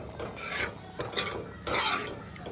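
Salt and turmeric powder are stirred into a curry in a pot, making steady scraping and rasping strokes of a spoon against the pot in a few uneven bursts, close up and quiet, with no talking.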